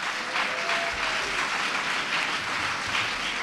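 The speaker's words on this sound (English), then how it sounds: "Let's give everybody a round of applause." Audience applause after a sustainable agriculture lecture event, a continuous, even patter of many hands clapping at moderate volume with a faint murmur underneath.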